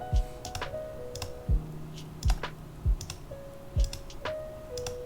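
Crisp, sparse computer mouse clicks at irregular intervals while paging through levels in the strategy game Rise of Kingdoms, close and dry, with soft low thumps and faint game interface tones underneath.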